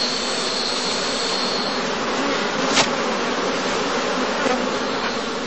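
Honey bees swarming around straw skep hives standing in blooming heather, a dense steady buzzing hum that fills the whole stretch without a break, loud and close.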